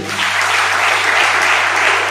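Loud, continuous applause from a church congregation giving thanks to Jesus, a dense wash of clapping that holds steady for about two seconds with no voices on top.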